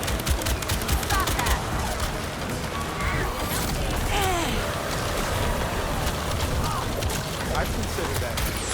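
Single-shot gunfire from the video game Crimson Desert crackles through a dense, busy mix of game action, with rapid sharp reports and voices talking over it throughout.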